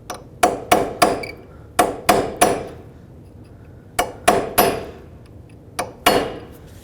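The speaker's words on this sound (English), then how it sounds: "So take a punch and a hammer and make a little indent." A hammer drives a punch into the axle nut of a 2003-2008 Toyota Corolla to stake it: about eleven sharp, ringing metal strikes, loud and close, in quick bursts of three or four with short pauses between.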